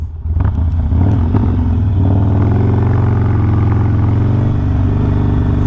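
A Harley-Davidson Sportster with a 2-into-1 exhaust rumbles loud and close while riding slowly, a deep, steady V-twin throb that settles into an even low cruise without talk.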